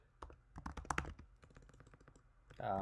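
Rapid, irregular keyboard clicks tapping away up close, with a brief voice near the end.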